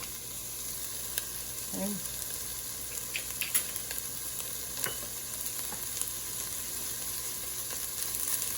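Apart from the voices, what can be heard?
tomato paste sizzling and cooking in a pot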